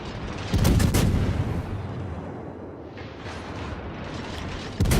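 Heavy gun salvos from the battleship GK in World of Warships boom in a deep, rumbling blast near the start, rolling echoes follow, and another salvo fires at the end.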